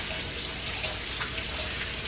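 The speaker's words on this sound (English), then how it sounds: "Let me get my hands washed." Water runs steadily from a kitchen tap as hands are washed at a sink, a continuous close hiss that lasts throughout with no talking.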